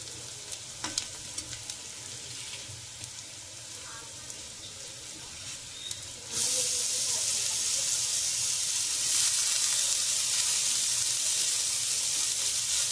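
Fenugreek leaves drop into hot oil in a pan and fry with a steady, loud sizzle that swells sharply halfway through and then holds as a continuous hiss, with no talking.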